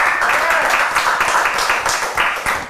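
A studio audience at a live rugby show in Le Touquet, France gives a short, loud burst of dense applause, with many hands clapping close together for a few seconds.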